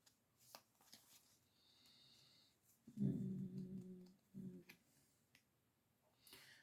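Tarot cards shuffled and handled during a reading, with soft rustles and taps, a louder burst of riffling, then a second shorter shuffle, quiet and close with no talk.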